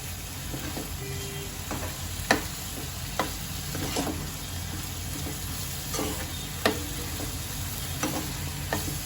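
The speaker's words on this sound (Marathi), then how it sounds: "आता यात मी कोलमी घालून घेते या सर्वांना एकत्र करून घेते" Prawns stirred into masala frying in oil for a village-style prawn curry, a constant sizzle under periodic scraping strokes of the spoon against the pan, close and steady, without speech.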